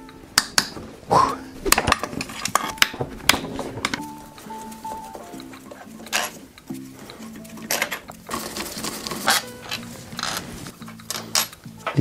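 Screws are loosened in a crosswise pattern on the casing of a Yamaha XMAX 125 scooter, with close ratcheting clicks, metallic taps and a repeated mechanical whir in short bursts.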